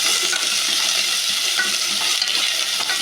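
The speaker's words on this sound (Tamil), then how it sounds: "போட்டு நல்லா இப்போ கிண்டி விட்டுக்கலாம்" Steady sizzling of garlic, chillies and curry leaves frying in a hot pan while a utensil stirs and scrapes through them, continuous and close.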